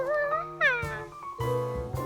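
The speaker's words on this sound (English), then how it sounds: "Please keep that cat away. Where is the cat?" A cartoon cat meows repeatedly up close, several drawn-out, wavering cries in quick succession.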